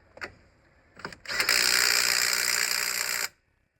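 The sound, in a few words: tightening track rod end bolts on Range Rover L322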